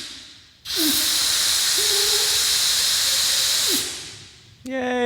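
Compressed air blasts into a foam-cored rudder in a long, steady hiss lasting about three seconds, close and loud, tapering off before a brief voice cuts in at the end.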